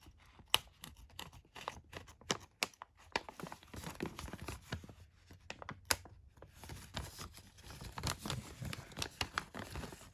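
Tough sheet material being cut for a welding rig consumables storage build gives dense, irregular crinkling and tearing crunches, close and fairly quiet, running in uneven bursts throughout.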